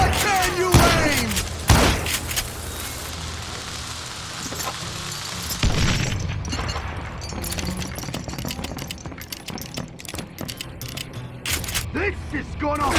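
Gunfire in the Western shooter Call of Juarez: Gunslinger: sharp shots and rapid bursts crack through a busy battle mix, with mechanical clicks and in-game voices talking throughout.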